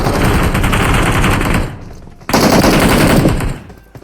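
Rapid automatic gunfire from a PUBG Mobile match, fired at an enemy, comes in two loud sustained bursts separated by a short pause, each a dense stream of close, sharp shots.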